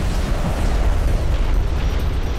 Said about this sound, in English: Hostile interceptor destroyed.